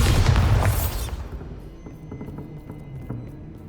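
Bombarda blasting spell in the Hogwarts Legacy video game on PS5: a loud booming explosion right at the start that rumbles and fades over a few seconds, followed by scattered small clattering debris.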